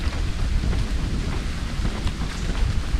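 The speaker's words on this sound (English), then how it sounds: "the wind's coming in right now" Gusting wind sweeps along a forest trail under the tree canopy in Congaree National Park, a loud, close, blustery rush that buffets the microphone with uneven surges and no voices.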